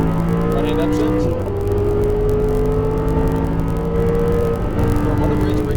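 Audi R8 accelerating at full throttle on a track, engine note rising loud and close, then a sharp drop in pitch at an upshift before climbing again, with a driving instructor's voice over the roar.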